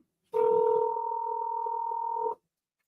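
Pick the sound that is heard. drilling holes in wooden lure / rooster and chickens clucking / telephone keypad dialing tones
telephone keypad dialing tones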